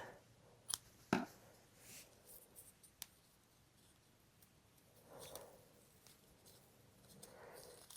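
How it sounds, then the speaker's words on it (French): Scissors snipping the threads of a woven ghost-themed mandala Halloween decoration, two crisp close cuts near the start followed by a single fainter snip, amid quiet handling rustles. "Je coupe."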